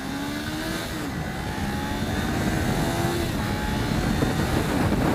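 A Kawasaki Ninja 400 motorcycle accelerates flat out from 0 to 100 through several gears, the engine pitch rising and dropping with each shift under steady loud wind roar.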